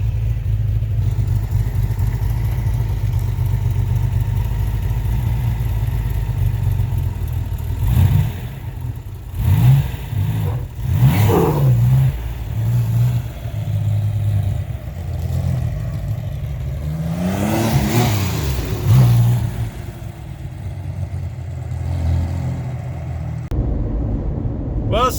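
A Corvair-powered sand rail with a newly installed clutch and a carburetor badly in need of cleaning rumbles and revs while driving, its engine note rising and falling in loud surges with some clatter, and no one speaking.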